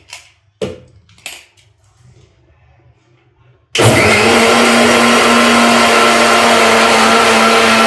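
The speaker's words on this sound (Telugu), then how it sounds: "నేను ఒక హాఫ్ కప్ పంచదార వేసుకుని బాగా గ్రైండ్ చేసుకోవాలి" A few light knocks and taps come first, then a blender grinding mango with sugar for ice cream roars into a loud, steady, close motor whir that holds to the end.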